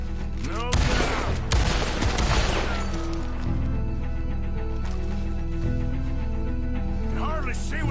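Gunfire in the Western game Red Dead Redemption II: a loud burst of several rapid shots early on, then echoing tails over a droning low musical score with no voices.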